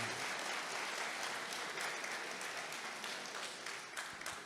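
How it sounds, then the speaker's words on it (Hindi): Sustained applause from a large audience at a mushaira poetry gathering held for the Azadi Ka Amrit Mahotsav celebration, a dense steady wash of clapping throughout with no speech over it. "लेकिन इसलिए ज़रूर तालियां बजाइए"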